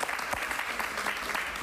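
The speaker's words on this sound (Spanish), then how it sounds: "Un aplauso para Silvia" A short burst of studio audience applause at a Spanish-language TV show, dense clapping from many hands, already underway and steady for under two seconds.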